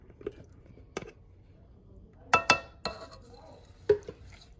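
A spoon scrapes and clinks against a pan as achar is stirred into hot tempering oil, giving a few sharp metallic taps and light scraping sounds with quiet gaps between them.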